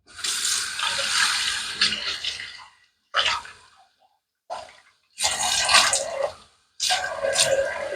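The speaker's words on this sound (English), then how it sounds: "So let me wet the face and we'll get rocking and rolling." Running water splashes in several separate bursts with short pauses between them as a man wets his face before shaving, close and fairly loud.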